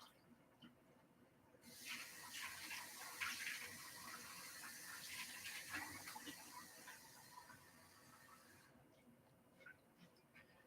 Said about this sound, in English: put fresh water in.